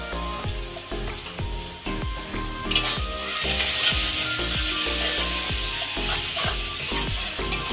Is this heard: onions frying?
yes